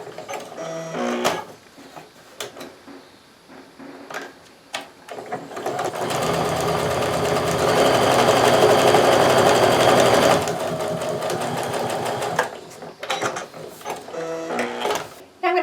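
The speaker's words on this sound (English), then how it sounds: "I'm going to go ahead and sew down both sides of that drawn line on both of my squares" A sewing machine stitches down both sides of a drawn line on quilt fabric squares, running in a steady continuous whir for several seconds, framed by quieter handling noises before and after.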